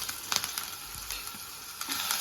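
Garlic and ginger paste frying in hot coconut oil for a homestyle chicken dish, a steady close sizzle with a few brief stirring scrapes and no voices.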